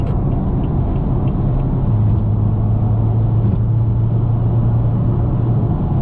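Steady low engine drone and road rumble from a tuned 480 hp BMW F30 335i cruising calmly at highway speed in eighth gear, continuous and even throughout with no talking.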